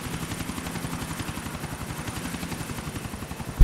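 A helicopter in GTA IV: The Ballad of Gay Tony flies along with a steady, fast rotor chop pulsing low and loud throughout, ending in a sudden louder burst.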